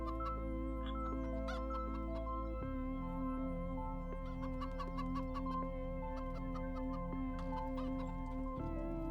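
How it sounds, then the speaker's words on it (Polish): Chickens in Minecraft cluck in short scattered bursts over a steady humming background tone, fairly quiet and close. "Kura jak to nielot nie jest zdolna do lotu i nie jest w stanie przeskoczyć ogrodzenia."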